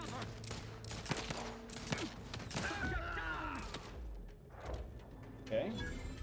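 Bursts of gunfire in The Outer Worlds 2, scattered shots and rapid volleys mixed with mechanical clanks, some loud and close, others farther off, heard beneath a player talking.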